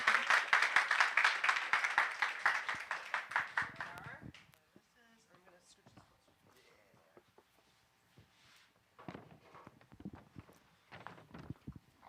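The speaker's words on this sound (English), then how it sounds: "Clap for Tony." A small audience at a Nerd Nite event claps for the next speaker. The clapping is dense and fairly loud for about four seconds, then breaks off into quiet room noise with scattered shuffles and faint voices.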